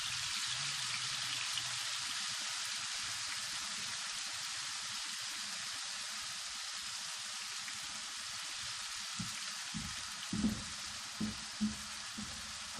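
Eggplant frying in a pan for a garlic eggplant dish, a steady close hiss of sizzling oil throughout, with a few soft stirring knocks near the end.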